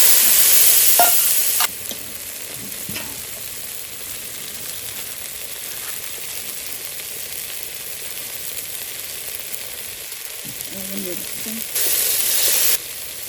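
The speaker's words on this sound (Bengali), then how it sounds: "তেজপাতা মরিচ আর এই জিরে দিয়ে ফোড়ন দিয়ে দেবো" Bay leaf, chili and cumin tempering in hot oil, a steady loud sizzle and frying hiss running throughout, briefly louder at the start and near the end as the spices hit and are stirred.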